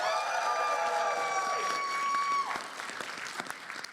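An audience at a PAX East 2020 Kingdom Hearts panel bursts into applause and cheering over a sustained tone, the clapping then thinning out into scattered claps.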